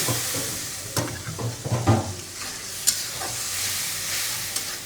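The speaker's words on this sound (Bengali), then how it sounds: "তরকারি এখানে কাঁচামরিচ দিয়ে রান্না হচ্ছে, ডাঁটা মাছ দিয়ে" A pan of fish curry with green chillies and vegetable stems sizzling steadily while a utensil stirs and scrapes it in irregular knocks, close and fairly loud, no talking.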